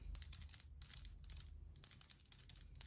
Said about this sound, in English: we have this little bell.